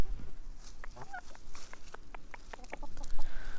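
Chickens cluck outdoors in a series of short, fairly close clucks and calls in an irregular rhythm over a faint background hiss.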